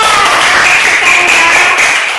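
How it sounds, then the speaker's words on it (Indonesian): Loud, close hand clapping during a classroom practical lesson, a dense continuous patter of claps with no clear pauses. "Dia tepuk tangan."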